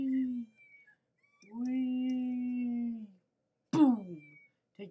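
A cartoon cat in a simple browser video game meows several times in clear, separate calls, ending with a sharp, higher-pitched yowl, all heard alone against silence.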